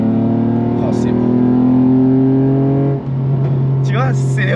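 A naturally aspirated 3-litre V6 car accelerates at full throttle in third gear from about 3000 rpm, a loud, rising engine note heard from inside the car with a brief dip and people talking over it.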